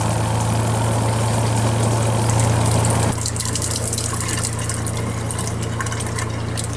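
A new spin-dry washing machine in a fifth-wheel trailer gives a loud mechanical hum with rushing, gurgling water expelled during the spin cycle, suddenly dropping in intensity partway through, then continuing as a lower whir with sputtering splashes.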